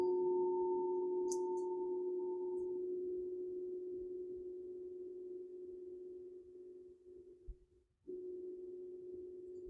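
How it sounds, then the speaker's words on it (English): A steady, sustained meditation tone hums evenly through an evening meditation session, a soft higher overtone fading after a few seconds while the main drone continues alone, with a brief dip near the end. "Allowing the tones to align with our breath."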